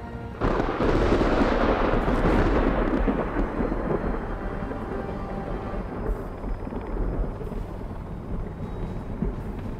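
Thunder in the video game Sons of the Forest, during a rainstorm, breaks into a loud, close rumble that slowly fades away over several seconds.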